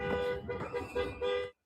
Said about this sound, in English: Maroon SUV in the middle of the street and began honking and heckling.